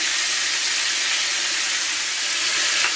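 Meat juices and blood frying in a hot pan give off a loud, steady, close sizzle that stays even throughout, with no talking.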